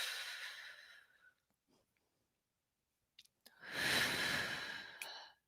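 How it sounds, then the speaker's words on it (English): Slow deep breathing, a long exhale that fades into a quiet pause, then a soft catch of breath and a full, loud inhale close to the microphone. "We're going to inhale for 4, count to 4, exhale."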